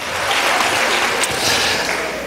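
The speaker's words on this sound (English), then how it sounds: "One more round of applause." An audience bursts into sustained applause, a thick, loud wash of many hands clapping at once from start to finish, with no speech rising above it.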